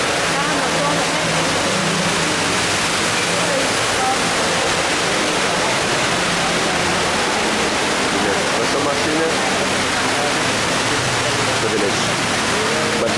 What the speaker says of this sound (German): einen schönen Wasserfall.